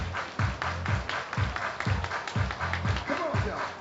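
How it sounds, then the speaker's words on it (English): A baseball game crowd claps in a steady, rhythmic beat of about two claps per second, with a murmur of voices and a faint cheer underneath. "Everybody clap your hands."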